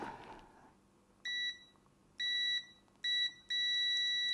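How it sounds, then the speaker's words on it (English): Beeper of a Thsinde 18B+ multimeter in latching continuity mode, sounding four clear high-pitched electronic beeps of varying length after a brief rustle, close and fairly loud with no speech. "Continuity mode is latching, which a lot of people find useful. Beeper's nice and loud."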